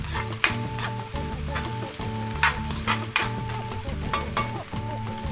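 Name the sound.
onion frying in a pan for escabeche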